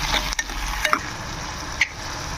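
Tomato, carrot and potato pieces cook in a pan with a soft steady sizzle, broken by a few brief stirring clinks of a utensil against the pan; no one speaks.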